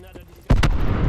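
A grenade blows up at a distance in the Call of Duty: Black Ops 4 video game. After a brief quiet stretch, a sudden loud blast erupts with a heavy rumbling roar that keeps going to the end.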